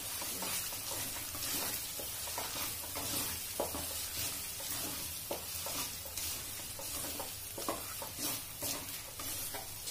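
Misal masala frying in oil with a dense, continuous sizzle and crackle, stirred by scraping strokes, close and steady with no speech.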